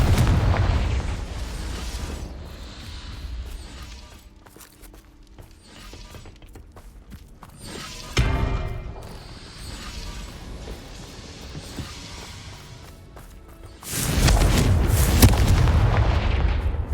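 Repeated Confringo fire-blast spell explosions in Hogwarts Legacy on hard mode: booming bursts with crackling tails, a sharp blast near the middle and a loud, sustained roaring burst toward the end over ambient game sound.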